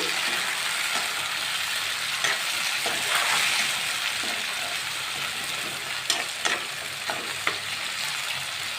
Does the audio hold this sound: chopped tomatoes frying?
yes